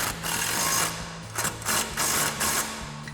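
An impact wrench with an extension and 14mm socket tightens a bolt on a Belltech lowering kit for a 2009-2018 RAM 1500, giving a few short, sharp rattling bursts up close in a quiet garage.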